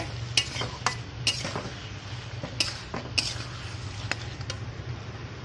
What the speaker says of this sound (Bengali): ধনে গুঁড়ো, জিরে গুঁড়ো আর লঙ্কা, হলুদ একসাথে দিয়ে আবার একটু কষে নেব